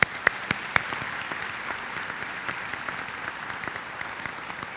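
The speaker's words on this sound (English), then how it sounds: "Round of applause for the board." A graduation ceremony audience at Charles F. Brush High School claps steadily for the school board, a dense even patter of many hands in a large hall with a few sharp claps at the start.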